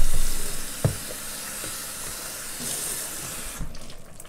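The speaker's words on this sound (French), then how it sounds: "Je vais encore ajouter de l'eau." Water is poured into a simmering Cameroonian okra sauce in a cooking pot, a close, steady splashing hiss with a faint sizzle that ends after a few seconds.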